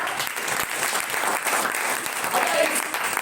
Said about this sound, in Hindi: चलिए ताली बजाइए सबको